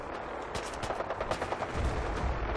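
Rapid gunfire crackles in the video game Fallout 4, a fast string of sharp shots followed by deeper thuds, moderately loud and without talk.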